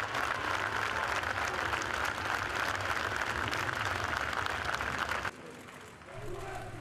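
A large crowd applauds at Eusébio's Benfica farewell, dense sustained clapping that drops away sharply near the end into quieter crowd murmur.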